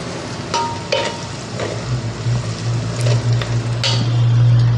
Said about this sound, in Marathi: थोडासा गुलाबी रंगावर ह्याला परतून घ्यायचा आपण